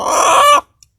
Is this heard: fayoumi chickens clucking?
yes